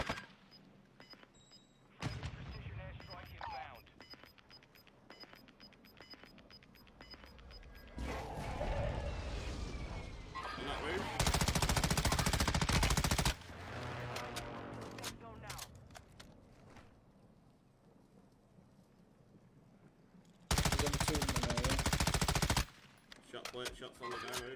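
Gunfire from a battle royale video game crackles in repeated loud bursts, some rapid automatic strings and single shots, with people talking over the game audio throughout.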